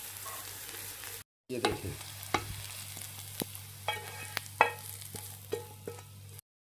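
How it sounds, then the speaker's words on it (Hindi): Raw minced mutton kebabs fry in a pan with a steady low sizzle, punctuated by light clinks and scrapes of a utensil, heard up close, with a brief spoken word at the start. "देखें, इसको मैंने हल्का हल्का सा फ्राई कर लिया।"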